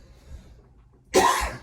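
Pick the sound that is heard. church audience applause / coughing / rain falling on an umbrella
coughing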